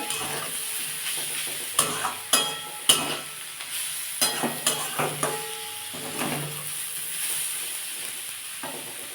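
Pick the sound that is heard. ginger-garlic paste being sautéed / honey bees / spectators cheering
ginger-garlic paste being sautéed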